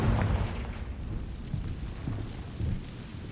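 A fiery Confringo spell blast in Hogwarts Legacy booms low at the start, then rumbles on as a crackling, burning roar with a few more dull thumps, and nobody speaks.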